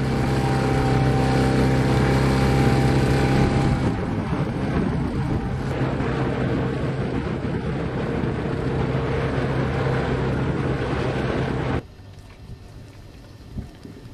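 Boat motoring into head seas: a steady engine drone with tonal hum runs loud and close for nearly twelve seconds, mixed with wind and water wash, then drops abruptly to a quieter background.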